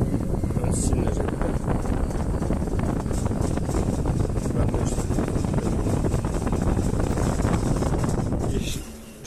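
A Granovsky honey extractor spins at high speed, making a loud, continuous rumbling whir with rattling that holds steady for several seconds and then winds down at the end.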